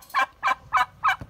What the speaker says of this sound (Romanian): Avem aici două curci negre și un curcan, el este curcanul.